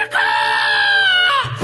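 A man imitates a rooster crowing with one loud, close, drawn-out cock-a-doodle-doo that rises, holds steady and then drops off at the end.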